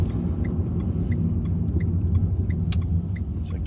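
Low engine rumble and road noise of a car driving in Bletchley toward a roundabout, heard from inside the cabin as a steady drone with faint clicks, no talking.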